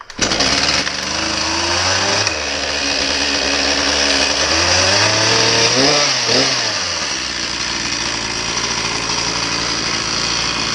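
Small gasoline engine, just started on choke, running close and loud with a rough buzzing drone that dips and revs up and down a few times before settling into a steady idle; no voices.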